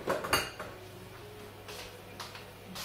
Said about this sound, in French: Alors, je vais mettre mon riz.